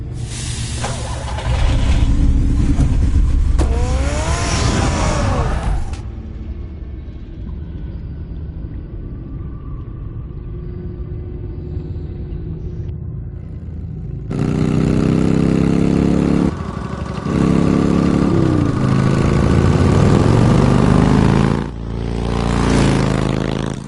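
A car engine in Batman: The Telltale Series rumbles loudly through long stretches, swelling and revving with a pause of quieter low drone between. No one speaks.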